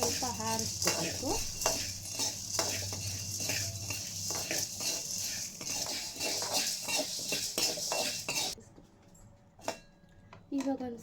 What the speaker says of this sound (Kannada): ಬೇಳೆ ಎಲ್ಲನೂ ಸ್ವಲ್ಪ ಚೆನ್ನಾಗಿ ಹುರಿಬೇಕು